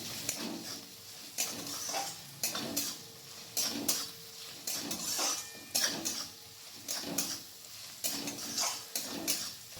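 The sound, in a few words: stirring garlic and ginger paste in a pan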